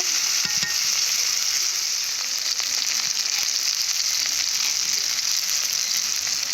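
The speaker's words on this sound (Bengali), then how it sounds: "উচ্ছেগুলো ফাঁকা তেলে ভালো করে ভেজে নেব" Bitter gourd frying in plain hot oil for shukto gives a steady, close, loud sizzle that hisses continuously throughout, with no talking.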